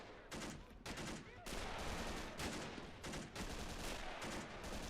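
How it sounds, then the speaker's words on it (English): A Soviet BM-37 mortar firing in a Korean War hill battle game with the RobZ Realism Mod, heavy booming blasts and dense battlefield rumble layered with repeated distant shots, fairly quiet overall. "That's a Soviet mortar, by the way. That's the BM-37."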